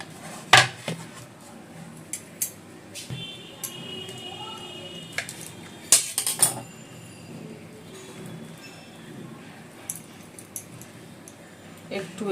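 Knife strokes chopping peeled taro stolons (kochur loti) into finger-length pieces, sharp intermittent taps and clicks on a board amid quiet kitchen background and some talk.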